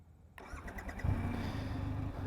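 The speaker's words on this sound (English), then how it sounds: "Now, will the bike still crank up?" A Triumph Rocket 3R Black Edition motorcycle cranks and fires up on a mountaintop, a short starter whir giving way to a loud, steady idle close by.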